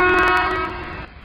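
An Indian Railways locomotive horn sounds one short, loud, harmonic blast that cuts off and leaves a brief fading tail.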